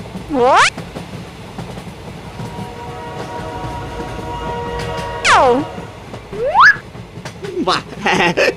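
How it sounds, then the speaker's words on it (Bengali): A train approaches and passes with loud horn blasts near the start and middle, a steady rolling rumble between them, and another horn sweep near the end. "একটা ট্রেন আসছে"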